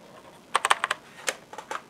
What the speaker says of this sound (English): There was also another keyboard in the box called a mechanical keyboard.